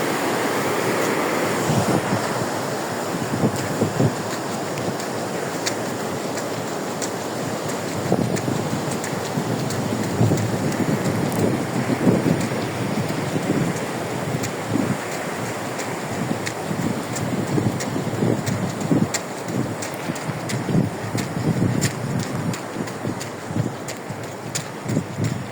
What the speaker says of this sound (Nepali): यति थोरै पानीमा पनि कस्तो डरलाग्दो साउन्ड छ